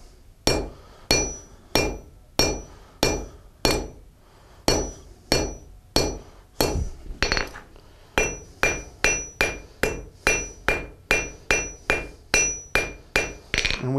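A blacksmith hammers a hot iron bar held on a chisel to cut and start a nail, about twenty sharp ringing strikes in a steady rhythm with a short pause midway, loud and close with no talk.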